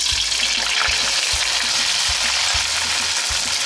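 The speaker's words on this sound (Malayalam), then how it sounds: "പൊട്ടിക്കഴിയുമ്പോൾ നമുക്ക് ഇതിനകത്തേക്ക് സവാള ചേർത്ത് കൊടുക്കാവുന്നതാണ്." Onions tipped into hot oil with spluttering mustard seeds for a Kerala-style turkey roast, giving a steady close sizzle and hiss with soft low pops scattered throughout.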